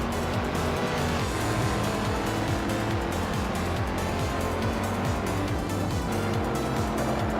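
Race cars lapping Snetterton 300 in a racing video game, a dense, loud, continuous engine roar with rhythmic pulsing revs and a few tire squeals, with no voices over it.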